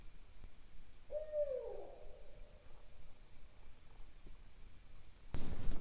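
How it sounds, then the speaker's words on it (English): An owl hoots once at night near a forest camp, a single clear drawn-out call over faint steady background hiss, followed later by a rustling burst of noise. "The thing woke me up. I believe it's an owl."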